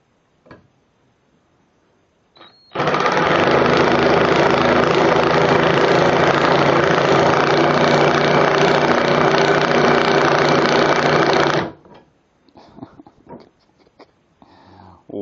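An 18-volt cordless 1/4-inch hex impact driver drives into plywood in one loud, close, continuous burst of rapid hammering whir lasting about nine seconds, with brief quiet handling noises before and after.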